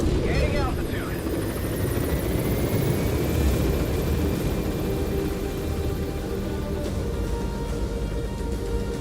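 A helicopter climbs in Metal Gear Solid V: The Phantom Pain, its rotor and turbine roar loud and continuous throughout, with a thin rising whine and a game radio voice briefly over the engine.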